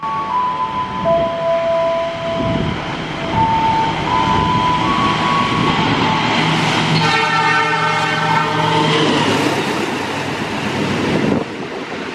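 A KRL JR 205 electric commuter train rolls into Klari station with a steady rumble and wind, a horn toot sounding midway over the long, continuous drone.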